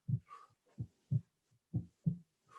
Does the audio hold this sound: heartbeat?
yes